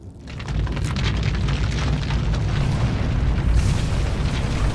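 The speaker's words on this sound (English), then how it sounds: "The wall is crashing." A wall collapsing in the video game Lord of the Rings Online, a deep rumbling crash that swells and holds as a loud, continuous roar of falling debris.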